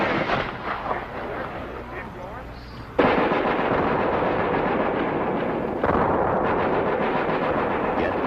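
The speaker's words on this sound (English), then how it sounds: "The recruits also learn to use grenades properly." A loud grenade explosion goes off during military recruit training, a sharp, heavy boom followed by a second blast a few seconds later, close and booming over outdoor rumble.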